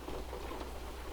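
Rain falls in American Truck Simulator as a constant soft hiss of drops over a faint low rumble, unbroken and without speech.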